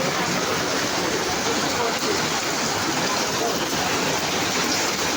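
Continuous dense hiss of rain falling on a shop-lined street in Jaigaon, steady and unbroken throughout, like heavy rain or water pouring nearby.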